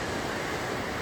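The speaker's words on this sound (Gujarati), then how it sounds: "પાણીના હદેસા મોટા મોટા આવી રહ્યા છે" Pacific surf on a beach in Vietnam on a morning, a continuous broad wash of breaking waves, steady and fairly loud, with no voices.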